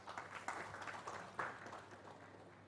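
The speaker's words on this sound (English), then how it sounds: "Please a round of applause for them." Faint applause for a panel at a conference session on hospital design, a soft continuous patter of clapping with a couple of sharper claps standing out.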